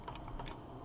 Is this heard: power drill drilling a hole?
no